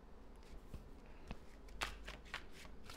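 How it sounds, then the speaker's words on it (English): Tarot cards being shuffled by hand, a run of crisp riffling and slapping bursts with soft hand shuffling between them, close and fairly quiet, with no voice. "All right, so I was pre-shuffling here."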